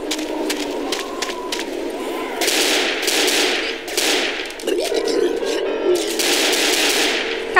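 Gunfire in the zombie shooter Left 4 Dead, rapid automatic bursts and repeated shots in loud clusters separated by brief gaps, with players talking over the action.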